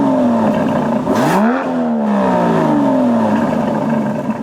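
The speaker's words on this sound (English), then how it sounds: "Take a listen in Grand Touring mode." An Aston Martin DB11's exhaust in Grand Touring mode revs up loudly, the engine pitch climbing, dropping with a shift, then climbing again in a steady, smooth drone with no talking.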